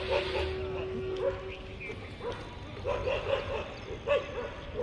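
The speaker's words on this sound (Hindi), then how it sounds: "वो भो भो कर रहे हैं चारों बगल से, इनको कुत्तों ने घेर रखा है" Several dogs bark and yip from all sides in an outdoor neighbourhood where children play bat and ball, with repeated sharp barks scattered through the clip over a steady background and some faint voices.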